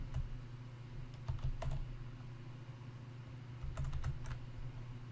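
Typing on a computer keyboard, two short bursts of close key clicks separated by a quiet pause, with no talking.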